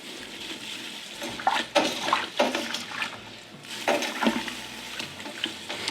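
Grain mash with floating rice hulls is stirred in water in a homebrew vessel for a farmhouse saison, with close sloshing swirls in several uneven bursts and no talking.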